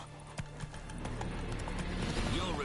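Roach, the horse in The Witcher 3 video game, gallops with quick, rhythmic hoofbeats over a low background, and a voice murmurs underneath.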